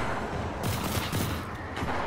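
Pump shotgun blasts in a video game: two or three quick, harsh bursts about half a second apart, loud and close with no voices.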